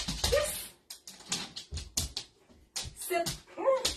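A dog gives short, high whimpers and yips in bursts during sit training, close by, broken by pauses and handling noises, with some brief human sounds in between.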